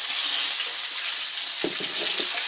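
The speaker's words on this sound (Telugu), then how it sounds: "మెంతులు, ఆవాలు, జీలకర్ర కొంచెం ఎర్రంగా వచ్చి బాగా వేగేది." Fenugreek, mustard seeds and cumin fry in a pan for a Nellore fish curry, a dense close sizzle with a few crackling pops near the end, heard alone.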